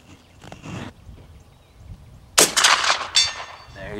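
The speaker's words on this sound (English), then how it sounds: "Second shot on steel. It's a beautiful sound." A Marlin 1893 rifle in .38-55 fires and the bullet strikes a steel target, a sharp loud crack followed by a ringing metallic clang and echo, with a softer thump earlier.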